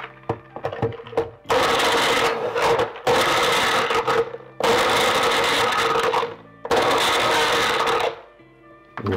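A blender whirs loudly through water and ice for a smoothie, running in four long bursts separated by short pauses, with a few clicks and knocks before the first run.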